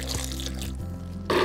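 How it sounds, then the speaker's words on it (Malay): Water poured into a blender jar over chopped chili paste ingredients with toasted belacan and candlenuts, a steady trickling pour that runs throughout before a louder splash near the end. "Tambah sikit air."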